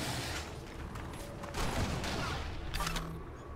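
Gunfire in Civilization: Beyond Earth aimed at an alien worm, a steady rattling burst of shots with mechanical clatter over a dense, noisy game backdrop, moderately loud and without talk.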